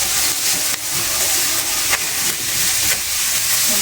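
Cooked rice sizzles in a pan of leftover longganisa sausage drippings, a loud, steady frying hiss close up, with faint crackles scattered through it.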